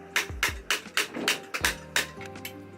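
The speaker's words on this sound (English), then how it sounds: "uses this tool and a hammer to pierce holes in them" A hammer striking a tool to punch holes in cardboard design cards for Banarasi saree weaving, heard as about ten sharp, close knocks in an uneven rhythm, each with a short thud.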